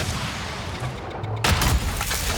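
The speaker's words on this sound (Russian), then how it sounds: "И сейчас я вам покажу стрельбу." A Leopard 2FK tank launches a missile in World of Tanks, a sudden sharp blast cutting through a steady engine rumble partway in, followed by a fading rushing tail.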